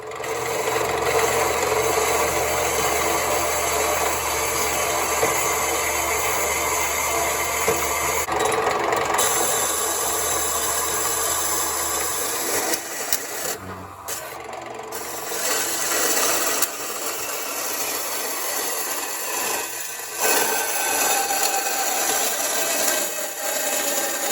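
A drained propane tank has its top cut off with a grinder, giving a loud, continuous rasping, grinding cut close up, with brief breaks as the tool eases off and restarts.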